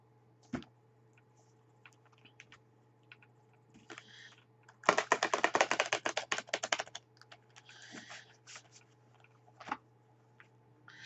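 Angel cards shuffled for a tarot reading, a dense burst of rapid riffling card flutter lasting a couple of seconds amid scattered light taps and handling clicks, close in a quiet room with no talk.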